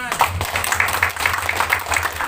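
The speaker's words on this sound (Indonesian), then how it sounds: "Tepuk tangan." Audience applause at an indoor community gathering, a short burst of rhythmic clapping over a low hum of the hall's sound system.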